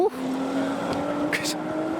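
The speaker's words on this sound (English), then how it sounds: "Could you hear the GTR?" A Nissan GT-R engine hums steadily nearby, with a brief higher-pitched whine and some background voices.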